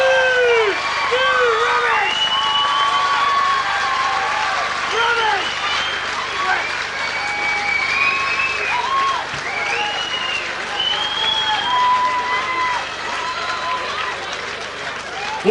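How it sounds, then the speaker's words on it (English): Sustained crowd applause and cheering greet the new IKBF middleweight boxing champion of Australia after a fight, steady and loud for the full stretch with whistles and voices mixed through the clapping. "How about a big round of applause"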